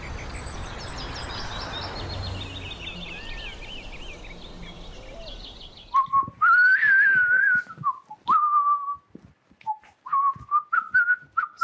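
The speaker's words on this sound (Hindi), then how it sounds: "ऐसी सीटियां बजाते हुए तो मैंने कभी नहीं देखा।" A person whistles a wavering, tune-like line in short phrases with brief gaps, clear and close, following several seconds of dim outdoor ambience with faint birdlike chirps.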